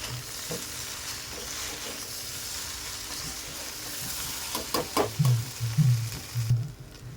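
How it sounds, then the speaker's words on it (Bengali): Chowmein fries with egg in a pan, a steady hiss and sizzle running throughout, joined near the end by a burst of stirring and scraping knocks against the pan. "ডিমটা দিয়েও ভাজবো"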